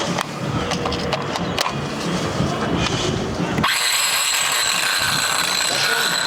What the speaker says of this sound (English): I want to actually use the Ryobi saw to rip the yellow tongue and see how it goes.